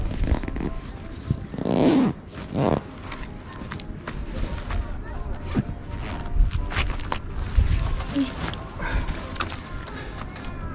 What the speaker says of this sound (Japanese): ファスナーを上げて、ファスナーを上げて。